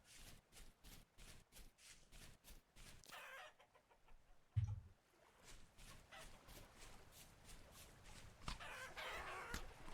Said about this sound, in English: Those chickens fighting at each other?